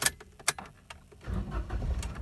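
A 2015 Toyota Agya G 1.0 manual hatchback starts up: a few clicks and key rattles come first, then the engine catches and settles into a steady low idle, close by and with no one talking.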